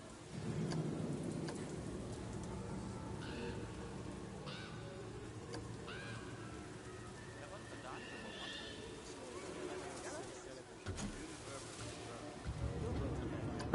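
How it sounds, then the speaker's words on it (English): Steady rain with low rumbles of thunder fills a rainy-night haunted castle scene in the game Planet Coaster, a soft continuous wash with a horse whinnying faintly and occasional quiet game sounds layered over it. "Haunted castle on a rainy night."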